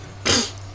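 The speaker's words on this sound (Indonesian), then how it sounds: "batuk" A single short, sharp cough from a person, close and fairly loud, standing alone over a quiet background hum.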